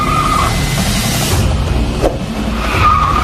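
A rocket car in a game roars at speed with a sustained tire squeal and skid, loud and continuous throughout.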